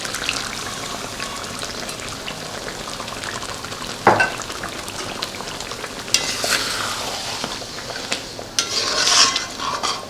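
Chicken chaap in gravy is stirred in a pan with a little added water, giving a steady close sizzle with scraping spoon strokes and a sharp metallic clink partway through. No one speaks.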